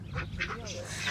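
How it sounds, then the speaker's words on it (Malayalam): A duck at a festival farm area gives a couple of short nasal quacks in quick succession, fairly faint and close, over a low background hum. "താറാവുണ്ട് കണ്ട,"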